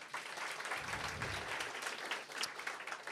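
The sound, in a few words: audience applause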